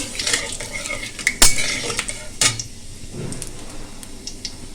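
A spoon stirs cumin seeds with a bay leaf in a cooking pot for aloo dum, scraping and clinking against the metal with a couple of sharp knocks, fairly close and with no talk.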